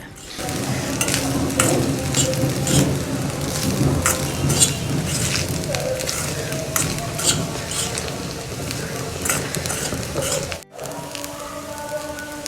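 Rice mixed with coriander leaves stirred in a pan over a high flame, a loud continuous sizzle with repeated scraping strokes of the spoon against the pan, close up, briefly cutting out near the end.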